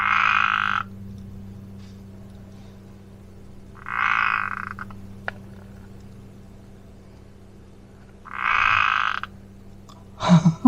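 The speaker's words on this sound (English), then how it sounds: "That sounds like a toad." A toad croaks in three separate bursts, each about a second long, evenly spaced over a steady low background hum in a forest beside a tiny house, followed by a brief sharp rustle at the end.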